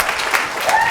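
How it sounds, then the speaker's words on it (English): Applause from an audience at a Soroptimist gathering, a dense, loud wash of many hands clapping close by, with a voice briefly audible over the clapping. "Can I just ask everyone to do a great big round of applause"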